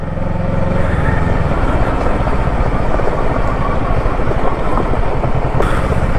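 A motorcycle engine drones steadily and loudly while riding a hilly road near Ranchi, the engine running hot at 103 degrees, with constant wind and road rumble throughout.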